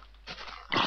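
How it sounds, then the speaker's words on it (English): A dog mob in the Minecraft video game takes a hit from the player, giving short game-animal yelps and grunts in two bursts, the louder one at the end, with no talk over it. "Oh my god, I hit my dog."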